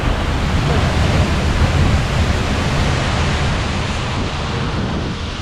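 Seljalandsfoss waterfall in Iceland roars in wet, windy weather, a loud, steady, broadband rush of falling water and gusting wind that does not let up.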